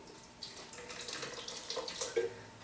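Tap water runs into a blender of thick apple puree in a kitchen, a close, uneven splashing gurgle that grows slightly louder and more bubbly toward the end.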